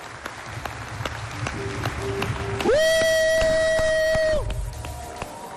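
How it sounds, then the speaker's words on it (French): A studio audience at a Chad television variety show applauds and cheers to welcome a special guest, with clapping and a shout, and a loud sustained tone that rings out partway through before the clapping continues. "Docteur Alaridi Koné, sous vos applaudissements, mesdames et messieurs"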